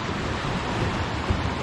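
Sea waves wash steadily on the Red Sea shore at Sharm El Sheikh, Egypt, at low tide, a dense continuous hiss of surf with no voices.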